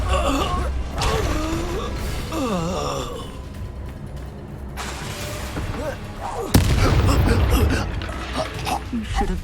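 Expulso explosion spell cast in Hogwarts Legacy, a sudden loud blast partway through, set amid ongoing game sounds, creaks and a voice talking.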